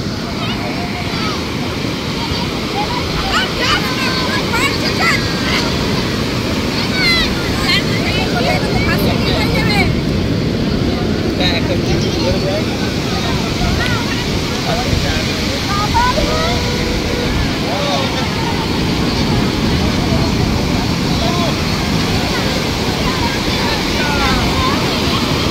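Ocean surf rolls in steadily at Puri beach on the Bay of Bengal, a continuous broadband wash with gusts of wind buffeting the microphone throughout.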